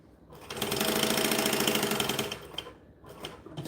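A sewing machine stitches bonded nylon fabric in one steady, close run of rapid needle clatter lasting a couple of seconds, then stops, followed by a few shorter bursts and handling noises.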